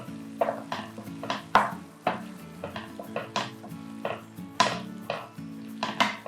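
A spoon stirs brinjal gravy with rock salt in a pan, giving repeated clinks and scrapes in an irregular rhythm over a steady low hum. The sounds are close and moderately loud, with no voices.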